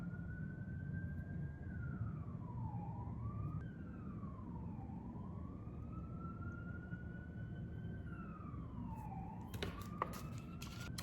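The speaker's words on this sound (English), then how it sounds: "There's an ambulance going by, so I'm gonna let that go by." An ambulance siren wails up and down in slow sweeps as the vehicle passes at a distance, steady and moderately faint, with a few brief clicks near the end.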